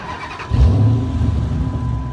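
A Dodge Challenger's engine cranks and fires up at close range, a sharp low roar about half a second in that settles into a rumbling idle.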